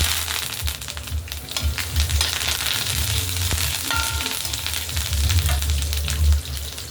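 Okra frying in a pan with curry leaves, dried red chillies and garlic makes a continuous, fairly loud sizzle with crackling pops and occasional stirring scrapes throughout.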